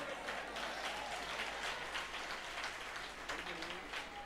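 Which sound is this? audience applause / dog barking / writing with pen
audience applause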